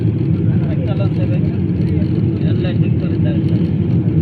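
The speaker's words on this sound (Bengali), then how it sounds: "আমরা এখন ল্যান্ডিং করতেছি।" Inside an airliner's cabin on landing approach to Dhaka airport, a loud, steady low engine and air roar fills the background while someone talks over it.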